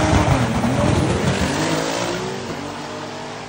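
A Ford OBS truck roars loud and close through a drag race run launched on a pro tree, its engine noise dense and sustained before easing slightly toward the end.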